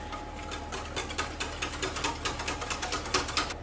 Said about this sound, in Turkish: Bunları güzelce çırpıyorum